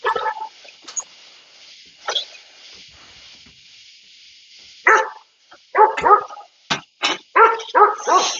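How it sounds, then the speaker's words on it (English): A dog barks indoors in a run of short, yappy barks and yips. The barks come scattered at first, then quicker and closer together, loud and near, with a faint steady hiss behind them. "excuse my dog, he just loves joining in on the show too and talking."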